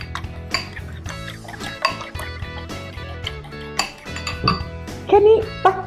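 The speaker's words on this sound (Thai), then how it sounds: "ให้ไข่แดงแตกทำเหมือนว่าเราจะเอาไปทำไข่เจียวนั่นแหละ" Eggs being beaten in a bowl to break the yolks, as for a Thai omelette: busy clinking and scraping of a utensil against the dish, loud and close, with wet splashy bits.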